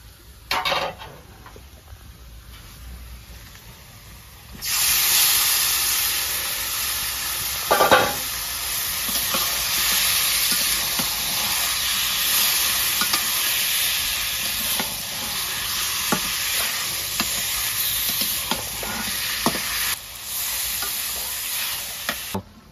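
Mutton pieces frying and being stirred into browned onions in a pan in a village kitchen, a steady loud sizzle with scraping stirs and utensil clinks, quieter for the first few seconds then building once the meat goes in.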